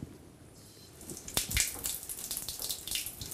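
Water runs from a tap and splashes as feet are washed during ablution before prayer, a steady close pouring and splattering with no voice over it.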